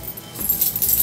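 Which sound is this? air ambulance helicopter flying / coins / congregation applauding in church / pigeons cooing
coins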